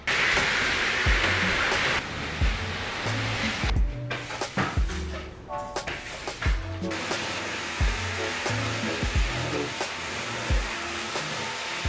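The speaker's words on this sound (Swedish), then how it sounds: "Men jag har startat robotdammsugaren nu." A robot vacuum cleaner runs over a rug indoors, giving a steady whooshing hum with some bumps and clatter, fairly quiet throughout.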